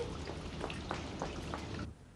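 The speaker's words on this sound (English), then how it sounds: "It's raining." Rain falling steadily outdoors on a street, a dense hiss of drops with a few louder patters, ending abruptly after about two seconds.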